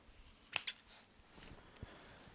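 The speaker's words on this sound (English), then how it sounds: "Let's actually cut that open." Scissors cut open a pack of German Pokemon trading cards: two quick, close snips of the blade through the wrapper, followed by soft, scattered rustling and handling noises.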